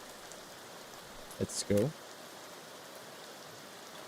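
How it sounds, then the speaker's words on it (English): Heavy rain in the video game Arena Breakout Infinite hisses as a steady, even wash throughout, with a man's brief spoken remark cutting in near the middle. "Sorry if I was speaking loud because like the rain was so strong."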